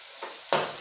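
Tomatoes hit a hot oiled pan for a mushroom curry, a faint hiss first, then a sudden loud sizzle that bursts up and keeps crackling steadily to the end.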